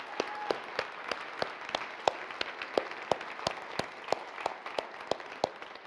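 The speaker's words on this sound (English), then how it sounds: "a round of applause, please, for the EuRA board and the EuRA team" Conference audience in Munich applauds the organizing board and team, a broad wash of clapping with a few distinct close claps cracking out in a roughly regular rhythm.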